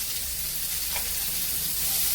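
Steady sizzling of onion frying in hot oil for tempering, a continuous close crackle with no talking.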